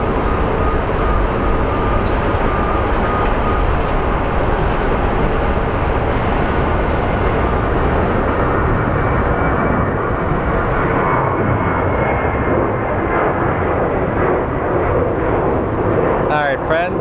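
An airplane taking off at Phoenix Sky Harbor International Airport gives a loud, continuous broadband jet roar that holds strong for the whole stretch and eases slightly toward the end.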